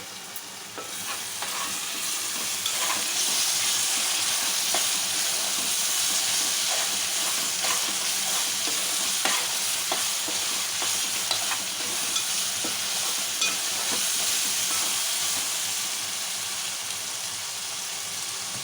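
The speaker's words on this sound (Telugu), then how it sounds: "మసాలా బాగా ఆయిల్ ఫ్రై అవుతుంది" Masala sizzles steadily in hot oil in a pan as chicken curry gets underway, with a dense, even frying hiss and occasional soft scrapes of stirring throughout.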